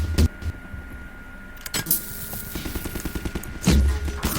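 Rapid bursts of gunfire at enemies in Half-Life 2, sharp cracks at the start and near the end with quicker rattling shots between, fairly close over a steady low hum.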